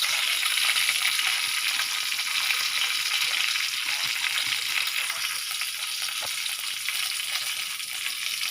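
Mustard seeds crackle and sizzle in hot oil, a steady bright hiss of frying held at an even level throughout, close by with no voices.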